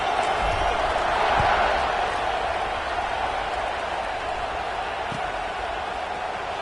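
A large stadium crowd roars steadily at a Sooners versus UCLA college football game before a kickoff, a dense, sustained wash of cheering with no break.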